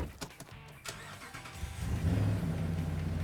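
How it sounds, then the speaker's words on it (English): A Dodge Ram 1500 pickup engine cranks and catches, with clicks and clunks before the starter, then settles into a steady, low rumbling idle that grows louder and stays close. "now should be able to just start this thing up."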